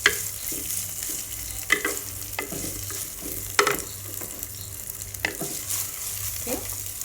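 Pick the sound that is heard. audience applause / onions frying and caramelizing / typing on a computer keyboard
onions frying and caramelizing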